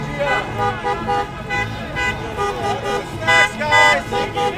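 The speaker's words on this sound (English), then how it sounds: "Are you blowing your horn because you're frustrated they're blocking traffic or in solidarity?" Car horns toot repeatedly amid a noisy street protest, short honks recurring over loud crowd chatter, shouting and nearby road traffic.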